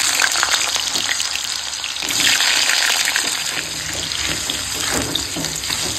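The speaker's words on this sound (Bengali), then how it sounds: "ওই তেলেই এখন আলুগুলোকে ভেজে নেবো।" Potatoes frying in oil left over from frying eggs, a steady, close, broadband sizzle that holds evenly throughout with no talking.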